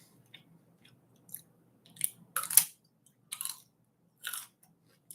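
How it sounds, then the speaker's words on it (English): Close, crisp crunching of someone chewing a raw garden radish, several loud bites and chews separated by short quiet gaps. "Crunchy, crunchy radish."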